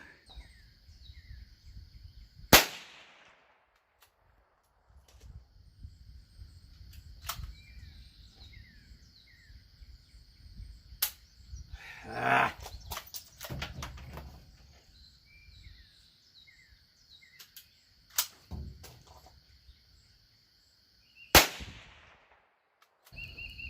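Mossberg Chuckster 640K .22 WMR rifle fired outdoors, several sharp, loud shots spaced irregularly across a quiet stretch, with faint birdsong and insects in the background between reports.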